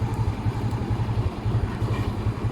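An old motorcycle engine idles steadily in a low, even rumble, close by and continuous, with no voices.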